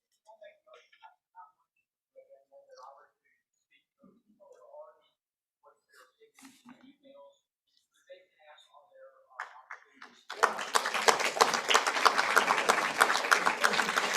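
Applause breaks out at a Representative Town Meeting, sustained and fairly loud clapping from a crowd filling the last few seconds after scattered quiet voices and small sounds.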